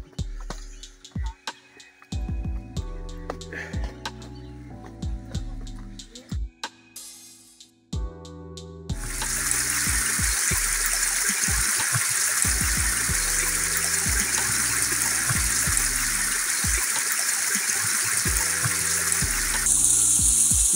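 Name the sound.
water stream flowing over rocks in mountain park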